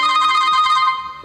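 A MediaTek KT107 phone plays a bright, tonal ringtone preview as the volume setting is adjusted, loud and close, holding steady before it fades slightly toward the end.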